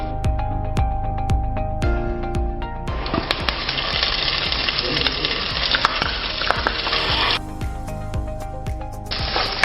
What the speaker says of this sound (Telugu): నెయ్యిలో మనం ఇలా డీప్ ఫ్రై చేసేసుకొని